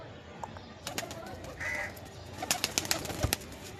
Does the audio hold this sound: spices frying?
no